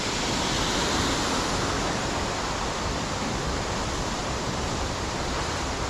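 Wharnley Burn waterfall near Allensford Park pours in a constant, dense roar of falling water, steady and loud with no break or voices.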